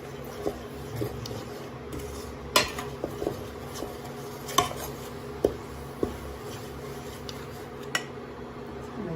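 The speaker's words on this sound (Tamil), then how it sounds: "இந்த வெள்ளம் கொதித்த உடனே அந்த அரிசி மாவை அதில் போட்டு கிளறிக்கினே இருக்கணும்" A ladle stirs rice flour into boiling jaggery syrup in a metal pot, giving scattered clinks and scrapes against the pot over a low steady bubbling, with no talking.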